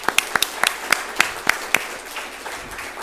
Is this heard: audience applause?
yes